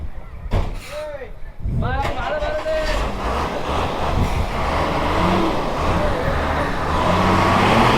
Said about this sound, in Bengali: পুরো জ্যাম হয়ে গেছে রোডে